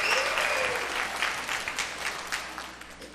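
An audience gives a school cheer squad a burst of applause: dense, close clapping that starts strong and gradually thins and fades over a few seconds.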